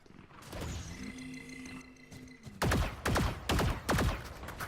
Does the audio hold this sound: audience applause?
no